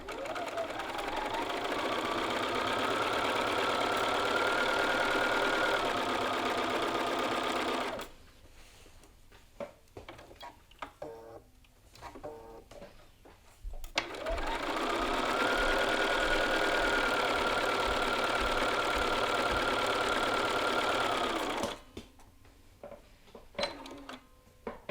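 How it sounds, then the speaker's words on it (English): A sewing machine stitches seam lines within a 1/4 inch seam allowance in two long steady runs, close and loud, separated by stretches of fabric handling, thread clipping and clicks. "we're just going to stitch along these seam lines within the seam allowance"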